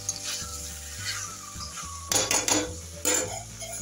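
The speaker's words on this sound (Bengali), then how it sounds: "এবার এটাকে খানিকক্ষণের জন্য চাপা দিয়ে দেবো।" A pan of mutton liver fry is covered with a lid: metallic clanks and clinks of cookware, with a few louder bangs near the end over a faint background hum.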